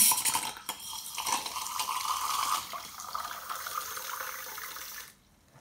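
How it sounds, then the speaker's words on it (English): Fizzy water rushes out of an ISI soda siphon into a vessel, a continuous hissing pour that stops abruptly near the end. "I'm expecting to see a reasonable quantity of fizzy water, good fizz in this water coming in."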